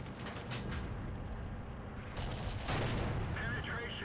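Tank cannon shots in World of Tanks fire as heavy booming blasts over a continuous rumbling engine and battle din, with the loudest bursts arriving in the second half.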